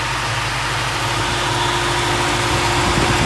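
A 1966 Ford Mustang convertible with a newly installed radiator runs steadily at idle, its engine drone and whirring electric radiator fans forming a constant, close, even hum with no talk.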